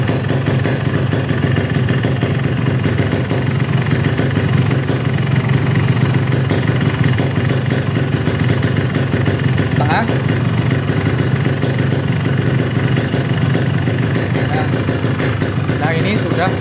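A Yamaha RX King two-stroke motorcycle idles steadily during carburetor air-screw adjustment, a close continuous buzzing engine note running throughout while someone talks over it.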